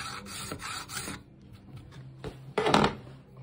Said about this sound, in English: we're gonna come back in and draw file across it to blend that surface in